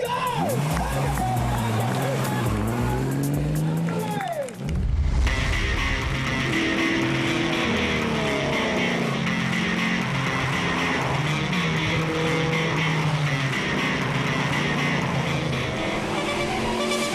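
Classic rally cars leave the official start of Targa Tasmania at Country Club Tasmania, engines revving and pulling away loudly and close by, then a sustained roar of motors over crowd noise and an announcer's voice.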